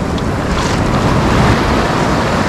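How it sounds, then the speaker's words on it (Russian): Sea waves break and surge at a beach in Mahmutlar, Alanya, Turkey, with loud continuous rushing surf close by, heavy wind buffeting the microphone and no one speaking. "Ой, какая волна идет."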